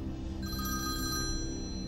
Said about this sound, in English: my phone that was in my hand, I hadn't even noticed it was there, began to ring